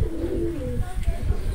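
Pigeons, young birds just recovering from illness, coo in low rolling calls close by, with soft bumps and movement underneath.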